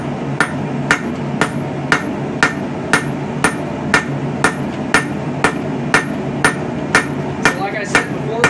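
A hammer strikes hot steel while forging a mini saex knife, sharp ringing blows falling at a steady pace of roughly two per second, loud and close.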